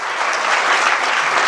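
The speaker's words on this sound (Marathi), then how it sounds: "त्याबद्दल सर्वांनी टाळ्या वाजवावं." An audience at a village council (zilla parishad) school celebration breaks into dense, steady applause, loud and close throughout, with no voices over it.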